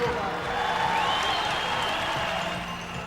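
A packed velodrome crowd of about 2,000 cheers and applauds as cyclist Chris Boardman starts his world hour record attempt, a steady broad roar of clapping and shouting under a commentator's voice.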